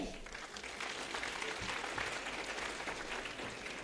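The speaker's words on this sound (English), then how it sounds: "please clap for 4 of my youngsters who performed today" An audience of children in a hall applauds young performers, a steady wash of clapping at moderate distance that holds evenly for several seconds.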